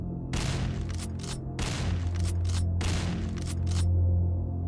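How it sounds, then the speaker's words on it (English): Bursts of rapid gunfire in several volleys, separated by short gaps, with a low rumbling drone underneath. "The gunshots echoed across the quiet countryside"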